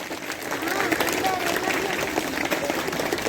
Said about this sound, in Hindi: तालियों से स्वागत किया जाए यार